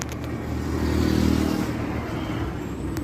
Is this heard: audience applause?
no